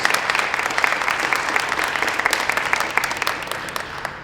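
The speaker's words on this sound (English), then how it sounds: "give them a round of applause" An audience at the 2019 Hispanic Leadership Summit of New Jersey opening applauds its sponsors: dense, steady clapping from many hands that holds at an even, fairly loud level from start to end, with no voices over it.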